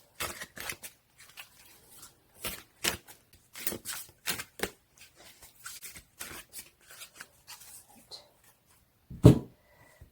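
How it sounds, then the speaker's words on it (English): Tarot cards shuffled by hand close to the mic, a run of crisp, papery riffling bursts in irregular rhythm with short pauses between and a louder flurry near the end, with no talking. "Let's give it a good shuffle."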